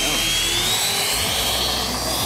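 A scratch-built model plane with a three-foot wingspan flies close by, its steady motor whine and airy drone filling the whole stretch, with a rising pitch sweep as it passes.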